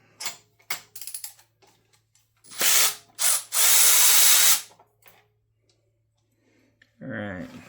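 A socket ratchet loosening spark plugs on a Lancer Evolution, giving several short bursts of ratcheting clicks followed by longer bright rasping runs, close and loud, with brief talk at the end.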